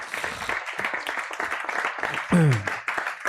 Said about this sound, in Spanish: Denle otro aplauso al Dios bendito de la gloria.